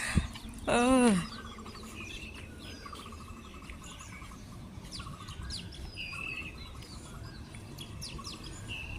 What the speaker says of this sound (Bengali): সকাল সকাল চারিদিকে খালি পাখির কিচিরমিচির শব্দ